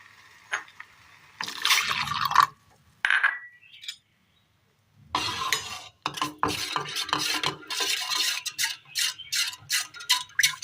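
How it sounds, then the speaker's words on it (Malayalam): Ground finger millet paste poured into a pot on the stove for a Kerala cooling drink, with wet splashing pours, clinks of utensils against the vessel and scraping, close up in bursts separated by brief silences. "അടുപ്പത്തൊരു പാത്രം വെച്ച് കൊടുത്ത് നമ്മൾ ഈ മുത്താരി അരച്ചെടുത്തത് ഒഴിച്ച് കൊടുക്കുകയാണ്."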